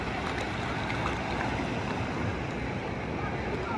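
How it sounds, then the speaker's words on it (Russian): Sea waves on a wild beach give a continuous, fairly quiet wash of surf noise with a steady roar and no distinct breaks, heard from close by. "Хотели послушать море, волну."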